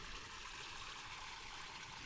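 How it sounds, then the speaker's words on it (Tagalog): Water flows steadily at a camp waiting area in Gabaldon, Nueva Ecija, a continuous even hiss and trickle that holds at the same level from start to finish with no other sounds over it. "May tubig na dumadaloy guys"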